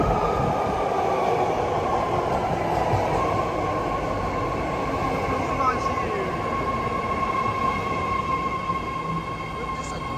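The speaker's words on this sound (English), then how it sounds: "This is a blue line train car 3 doors and 3 doors." A new ten-car, three-door San Francisco Blue Line subway train rumbles steadily alongside a platform, with a continuous low roar and a sustained whine from the cars, and faint voices in the background.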